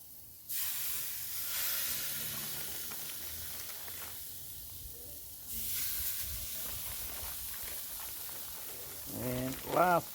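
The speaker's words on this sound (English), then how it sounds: "Here we go with the lamb. Look at that, sizzle," Loud hissing sizzle of butterflied lamb hitting a hot Weber kettle grill, a steady spitting crackle that flares up twice, with a brief voice near the end.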